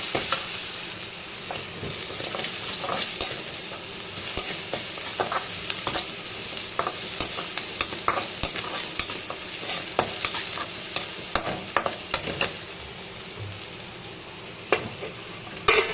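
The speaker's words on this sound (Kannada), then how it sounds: "1/4 ಟೀ ಸ್ಪೂನಷ್ಟು ಉಪ್ಪನ್ನು ಹಾಕಿ 1 ನಿಮಿಷಗಳ ಕಾಲ ಲೋ ಫ್ಲೇಮಲ್ಲಿ ಬೇಯಕ್ಕಿಡೋಣ" Chopped vegetables with a pinch of salt stir in a pan over a low flame for Maggi noodles, giving a steady soft sizzle with frequent spoon scrapes and clinks throughout, close and without voices.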